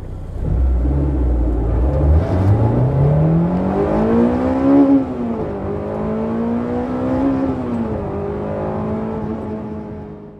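An AP2 Honda S2000 with its clutch delay valve removed accelerates hard, the engine note climbing through the revs, then dropping sharply at a quick upshift and rising again, loud and close with no talking.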